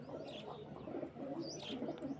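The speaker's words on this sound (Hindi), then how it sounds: "ये सारे के सारे देखो कबूतर," Pigeons cooing and chirping together, a steady close murmur of bird calls with no talk, likely outdoors after rain in summer heat.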